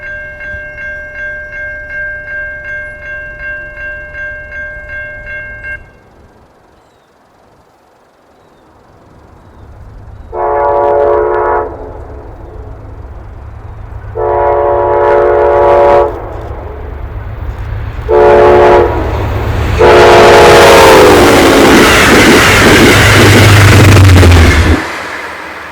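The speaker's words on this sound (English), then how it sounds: "with a nice K5LA horn" An Amtrak passenger train on the Empire Corridor near Schodack, NY, sounds a K5LA horn in several long blasts, then roars past at speed with loud wheel and rail noise building to a close, heavy rush.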